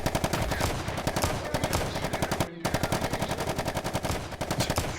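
Light machine gun blasting in long rapid automatic bursts inside VRChat, loud and close, with a brief pause midway before the steady rattling fire resumes.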